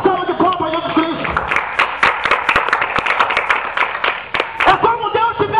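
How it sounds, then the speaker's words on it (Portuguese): Church congregation clapping along during a lively service, rhythmic claps and taps mixed with loud singing or shouting voices throughout. "Dá uma salva de palmas, Jesus Cristo."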